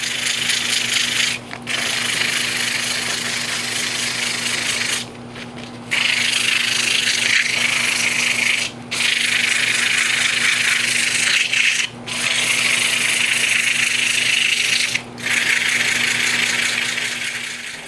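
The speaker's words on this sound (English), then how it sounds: "Now I'm just going to sand it to 320," An acrylic and wood nightlight spins on a lathe while sandpaper is held against it, giving a steady, loud rubbing hiss over a constant motor hum, broken by several short pauses as the paper is lifted away.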